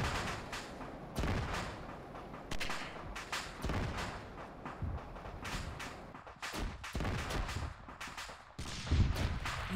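Inside Arma 3, a tank's ammunition cooks off in a chaotic run of cracking bangs and booming bursts, repeated irregularly for about ten seconds, loud and dense with short gaps, plus a heavier burst at the end.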